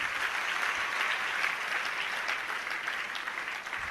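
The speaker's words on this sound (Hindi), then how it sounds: "तालियां अपने लिए तालियां।" Steady applause from a large audience at a Jain religious discourse, continuous dense clapping at moderate loudness with no speech over it.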